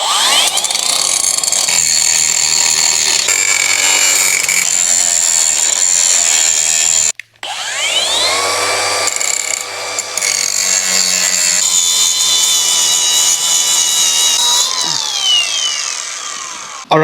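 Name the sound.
grinder trimming and sanding a bike frame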